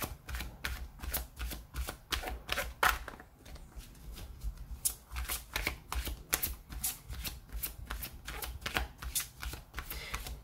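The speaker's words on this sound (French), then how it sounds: "On va prendre quelques cartes au hasard et puis on verra" Oracle cards are riffled and drawn by hand in a quiet room, giving repeated sharp papery flutters and taps in an uneven rhythm, close and fairly soft, with no voices.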